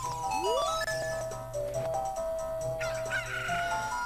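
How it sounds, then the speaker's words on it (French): Chicken sound from the video game Zelda Ocarina of Time, synthetic clucking and crowing calls over a game's background music, moderately loud, with rising and falling tonal squawks. "Un petit poulet?"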